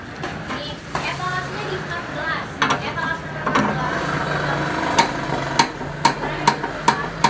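A Lucid 600 Nm battery impact wrench, fully charged with auto stop, tightens a bolt in rapid sharp hammering bursts that grow into a regular series of loud clacks near the end, with speech in the background.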